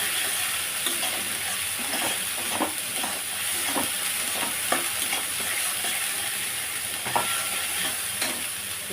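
Ginger and garlic fry in a pan, giving a soft, steady sizzle broken by repeated stirring scrapes and taps, fairly close and moderately quiet, with no talking.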